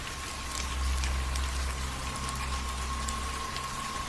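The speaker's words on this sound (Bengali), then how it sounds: "বৃষ্টি কখনো ঝিরঝিরে, কখনো ঝমঝমিয়ে" Rain falling in a cartoon scene, a steady dense patter with a low rumble underneath and a faint tonal hum, continuous and even throughout with no speech.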